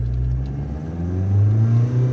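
A Mahindra Scorpio-N SUV in Zip mode accelerates hard, its engine drone rising in a deep continuous growl that swells louder toward the end, heard from inside the cabin.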